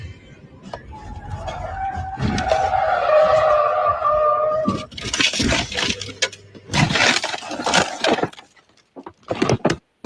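A car skids in an accident, tires squealing loudly for a couple of seconds, followed by bursts of crashing and banging impacts that fade out in short irregular hits.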